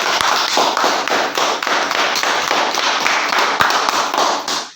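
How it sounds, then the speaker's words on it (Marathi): Loud, dense applause from a gathered audience at a lucky draw event, continuous rapid clapping sustained throughout with a few sharper individual claps standing out. "एकदा स्वतःसाठी जोरदार टाळ्या वाजवू आपण."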